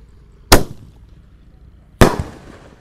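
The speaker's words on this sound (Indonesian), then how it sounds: "ini penutupnya peluru pelontar yang warna merah. Kita nyalakan guys." A red roman candle firework launches shells in two sharp, loud bursts about a second and a half apart, each followed by a brief crackling tail outdoors.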